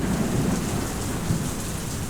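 Steady rain falls outdoors with low rumbling thunder beneath it, a dense continuous wash of sound with no voices.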